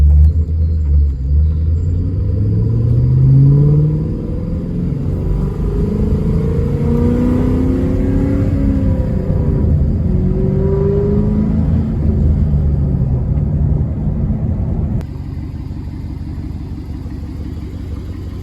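A Ford Mustang Mach 1 rumbles deeply as it pulls away, a low, steady engine drone nearby that shifts pitch as it accelerates, with no talking over it.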